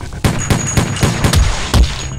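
Gunfire in the video game Terminator Dawn of Fate, a loud rapid run of about eight sharp shots in quick succession with a faint high electronic tone running beneath, no speech.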